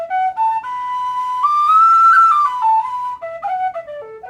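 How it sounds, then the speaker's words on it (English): A tin whistle in A, a Freeman head on a homemade body, plays a short clear melody alone, bright pure notes rising then stepping back down, close and loud with no talk. "Which is the best A whistle I've ever played."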